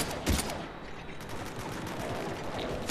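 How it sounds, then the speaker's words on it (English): Gunfire in the video game Mass Effect 3 crackles as a dense, continuous fusillade of rapid shots with a few louder bursts, loud and alone against a noisy battle backdrop. "I hear gunshots, but I see no people."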